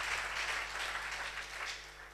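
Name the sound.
audience applauding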